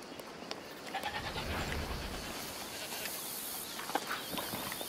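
Goat bleating in the video game A Plague Tale: Requiem, a few faint calls set against a steady bed of ambient outdoor noise, with no talking.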